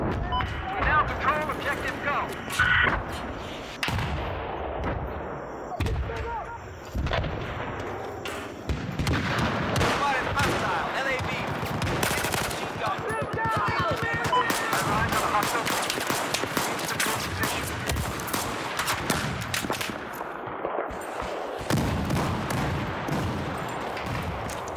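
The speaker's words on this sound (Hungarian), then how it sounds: "mert tankok onnan lövöldöznek" Tanks firing in Battlefield 4 on the China Rising Dragon Pass conquest map: a dense, continuous barrage of booming blasts and gunfire, loud and layered, with a voice talking over the action.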